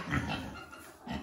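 Pigs in a barn before morning feeding, short low grunts and snorts up close, with no talking.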